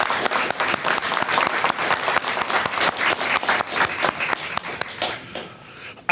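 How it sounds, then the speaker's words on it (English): Audience applause at an Asian-American and Pacific Islander Heritage Month event, a room full of people clapping with distinct, crisp individual claps, strong at first and thinning out over the last second. "Give them a round of applause."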